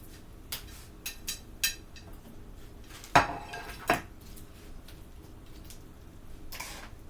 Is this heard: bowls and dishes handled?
yes